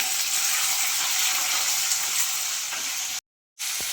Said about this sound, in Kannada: ಈರುಳ್ಳಿ ಕರಿಬೇವು ಸೇರಿಸ್ಕೊತಾ ಇದ್ದೀನಿ ಆಯಿಲ್ ಆಯಿಲಲ್ಲಿ ಚೆನ್ನಾಗಿ ಫ್ರೈ ಆಗಬೇಕು